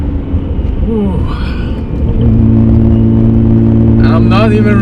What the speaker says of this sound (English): I'm not even revving it to 8000 RPM